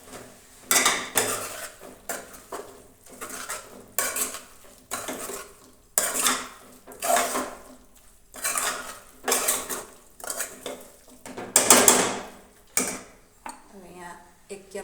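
A metal spoon scrapes and clanks against a pan while turmeric, red chilli powder and coriander-cumin powder are stirred into vegetables, in repeated loud rhythmic strokes with brief pauses between them.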